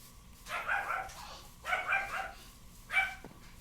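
A dog in Minecraft barks in three bursts, the last one shorter, fairly close and clear over a quiet low game hum.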